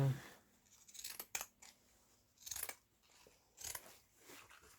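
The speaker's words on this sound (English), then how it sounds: "cut it, not perfectly, but cut a piece of the burlap" Scissors cut through a piece of burlap fabric in several separate snips, each a short crisp crunching slice, close and fairly quiet with pauses between cuts.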